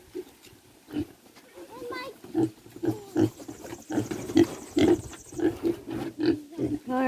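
Farm pigs in Jamaica grunting and oinking in short repeated bursts at close range, mixed with people talking nearby.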